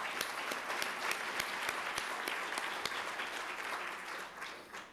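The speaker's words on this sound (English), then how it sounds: "So how about a round of applause for Bill Schutte?" An audience at a teaching excellence awards ceremony applauds for Bill Schutte, a dense, steady wash of clapping that holds throughout and tapers slightly at the end.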